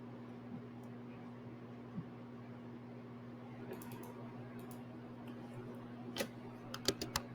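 Sparse, faint keystroke clicks on a computer keyboard, growing a little more frequent toward the end, over a steady low electrical hum in a quiet room.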